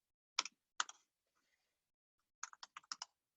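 Someone types a command on a computer keyboard, two isolated key clicks followed after a pause by a quick run of about six close, crisp keystrokes in a quiet room.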